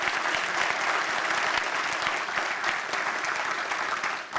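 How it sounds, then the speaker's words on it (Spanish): A church congregation claps during a sermon, producing steady, dense applause that holds evenly throughout and fades slightly at the end. "Y dale un aplauso al Señor"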